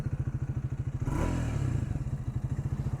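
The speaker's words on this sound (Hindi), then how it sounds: "आइडल पे साउंड इसका ऐसा है।" A 2025 Triumph Speed 400 motorcycle idles close by with a steady, evenly pulsing low thump, broken briefly partway through by a louder burst and clatter before the even idle rhythm returns.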